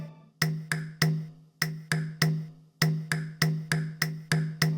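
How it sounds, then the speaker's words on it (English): Marching beat on bongos and castanets, a crisp rhythmic pattern of sharp pitched hits in short groups with brief pauses, dry and close with no voices. "I also added this marching beat that I used with bongos on the left side of the ear and castanets on the right side of the ear"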